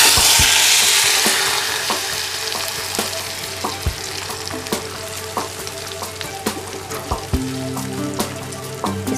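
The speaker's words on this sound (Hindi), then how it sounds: "अब हमने जो बटर निकाला हुआ था वो हम कढ़ाई में डाल देंगे।" Butter melts in a kadhai over a high gas flame, giving a dense, close sizzling hiss that starts loud and eases slightly, punctuated by small crackles and pops, with no talking.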